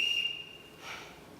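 A captain's shrill bosun whistle rings out in a film scene, a steady high tone held briefly then cut off, followed by a fainter second blast, fairly loud with no talk over it.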